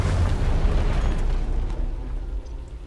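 Missile explosion in the video game Into the Breach, a loud, deep rumbling blast that fades out over about three seconds, with no talking over it.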